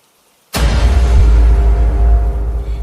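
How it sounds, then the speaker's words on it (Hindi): Rain begins abruptly after a half-second of silence, becoming a loud, steady, dense hiss with a deep low rumble that continues unbroken to the end. "बाहर दूर कहीं से बारिश की आवाज सुनाई दे रही थी।"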